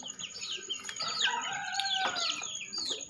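Silkie chickens cluck and call in a steady, overlapping stream of short bird vocalizations, fairly close and continuous throughout.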